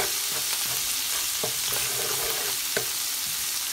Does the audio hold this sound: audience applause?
no